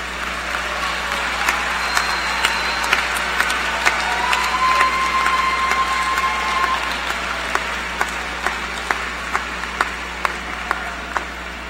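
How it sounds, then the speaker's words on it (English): Graduates at a spring university commencement ceremony applaud in a long, steady wash of clapping from a large crowd, with sharp individual claps popping out toward the end. "will the graduates please rise and give a round of applause and appreciation of those that supported you through the educational process"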